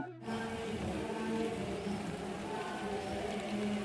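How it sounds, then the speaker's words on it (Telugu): Light drizzle falls outdoors in a garden during a festival day, a steady soft patter of raindrops on surfaces that holds evenly throughout after a brief quiet start, with no voices. "అయ్యయ్యో చినుకులు పడిపోతున్నాయి"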